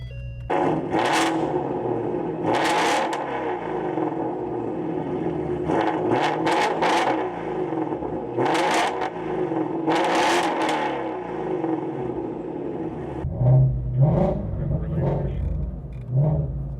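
The V8 engine of a 2017 Ford GT350R revs repeatedly through a loud sport exhaust, rising and falling in sharp bursts, then settles into a deep, burbling idle.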